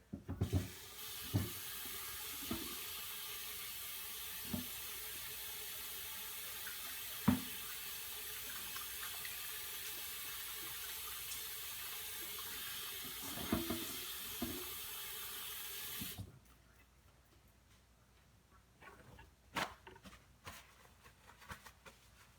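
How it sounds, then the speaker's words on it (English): Water runs steadily from a kitchen tap while hands are washed, a continuous hiss with scattered splashes and clinks, then the flow cuts off and small handling sounds follow; no speech. "Wash my hand."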